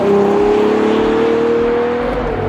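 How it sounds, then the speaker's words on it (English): A Ferrari Purosangue's V12 engine pulls loud and steady with a rising whine, working through the gears as the SUV is driven hard. The powerful drone carries throughout with no talking. "There's something about all of those cylinders just doing their thing, and then changing down through the gears and feeding it into a corner"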